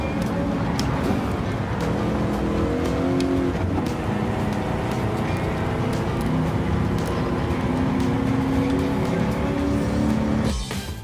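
Race car engine in Gran Turismo 7 on PS5, a loud sustained drone with rising and falling pitch as gears shift through acceleration, steady for about ten seconds before dropping off at the end.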